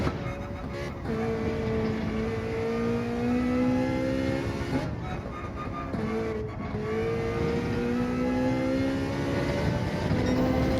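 Ferrari 458 race car in Gran Turismo 7 revving hard with its rear tyres spinning, a loud continuous engine whine rising and dipping through several pitch sweeps with brief gear-change breaks, close and without talk.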